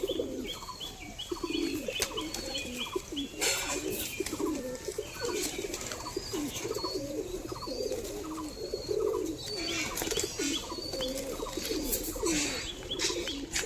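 A pigeon, one of several kept for sale, coos in repeated soft throaty phrases close by, with other birds chirping and brief wing flutters in the background.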